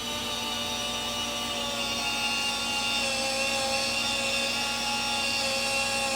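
An electric spin scrubber runs continuously against a wood surface, producing a steady, close, high-pitched motor whine with a constant scrubbing hiss and no pauses or talk.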